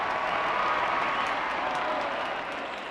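A large crowd at a political victory celebration cheers and applauds loudly and continuously, the roar easing slightly toward the end.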